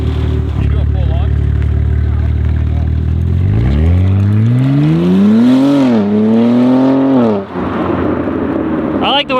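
A BMW G82 M4 with a Valvetronic exhaust accelerating hard: a deep idle rumble swells into loud, close revs that climb, dip briefly, then climb again before easing off.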